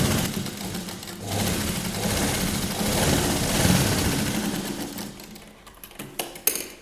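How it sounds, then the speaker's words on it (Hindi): A sewing machine runs double stitching on a child's Patiala dress, a steady close mechanical whirring hum with rapid needle chatter that slows and stutters into a few separate clicks near the end. "मैं यहाँ पर डबल सिलाई कर रही हूँ"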